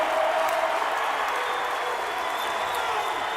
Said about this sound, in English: Crowd finally getting into it.